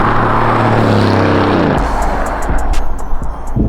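A 2020 Aston Martin Vantage in Sport Plus mode with its exhaust baffles open, heard from inside while driving: a loud engine drone rising in pitch under acceleration, then cutting off into a gear change with exhaust pops and crackles.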